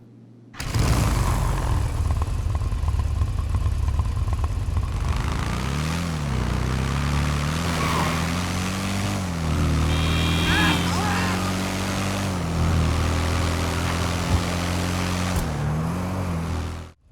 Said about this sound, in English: I'm going to let you listen to both Daemons start up and then go for a quick ride.